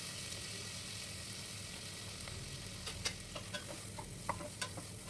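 Sliced onions and chopped capsicum sauté in a pan with whole cinnamon, cardamom and cloves, making a soft continuous sizzle broken by light utensil taps and scrapes.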